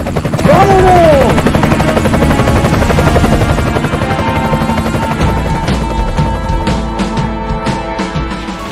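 A helicopter roars loud and close, its rotor thumping in a steady, fast beat that dominates throughout and eases slightly toward the end.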